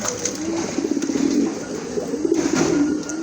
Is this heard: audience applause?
no